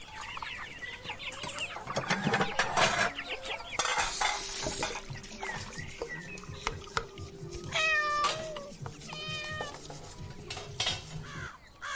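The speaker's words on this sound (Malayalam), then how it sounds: "ഓന്റെ ഒരു പൂച്ച." A cat meows a few times, its cries rising over kitchen clatter of pots and dishes, with faint voices in the background.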